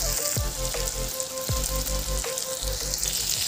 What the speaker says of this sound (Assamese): ইয়াত তেল বিঙি গৈছে। এতিয়া মই মাংসখিনি দি দিম